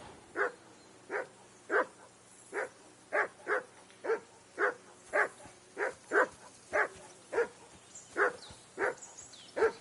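A dog in the medieval game Kingdom Come: Deliverance II barks in a steady run of about twenty evenly spaced, moderately close barks, heard alone over a quiet background.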